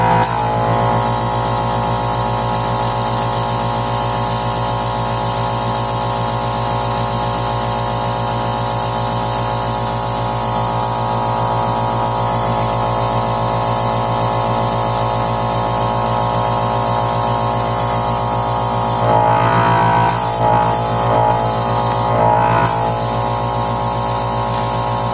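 An airbrush sprays primer onto 1/144 scale Gundam model parts with a loud, constant hiss and motor hum. It runs steadily and close up, with a few brief breaks near the end and no talking.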